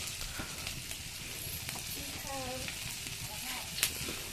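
Dried fish (shutki) frying in a pan with coriander and chili powder, a faint soft sizzle with occasional stirring scrapes and a small clink near the end.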